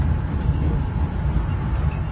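A panoramic passenger train on the Mutiara Timur route from Banyuwangi rolls steadily along, a continuous low rumble with rail clatter, heard from inside the carriage and with no talk.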